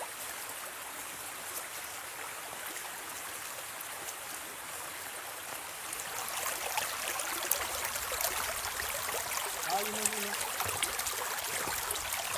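A stream runs along the edge of a hiking trail in the Monts d'Alban, making a steady, moderately near rush and trickle of water that stays continuous and swells slightly louder partway through, with no talking.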